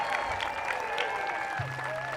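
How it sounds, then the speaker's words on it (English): Crowd applause at an outdoor No Kings protest, sustained clapping and cheering with whistles or shouts rising over it and a low hum entering near the end. "I'd like to give him another round of applause."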